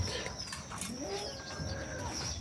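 Soft pigeon cooing murmurs through a steady background hum, with a few brief higher bird chirps mixed in; no talking.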